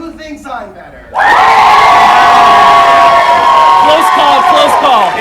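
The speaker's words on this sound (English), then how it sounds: "Show of applause." An audience at a pajama-themed pillow-fight wrestling match erupts into loud, sustained cheering, shouting and whooping after a brief stretch of talk, with a large crowd roaring throughout.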